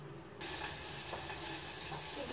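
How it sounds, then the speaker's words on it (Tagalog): Chopped onion sautéing in butter in a home kitchen pan, a steady close sizzle that comes in abruptly and keeps a broad, even hiss throughout, with faint crackles and no voices. "Igigisa natin yung butter, ay yung ano, sibuyas"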